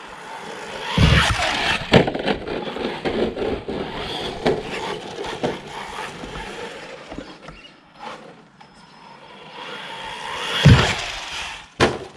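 X04A radio-controlled car jumping and landing outdoors, with several sharp thuds and clattering impacts spread among whirring motor and rattling noise, loud bursts near the start and end.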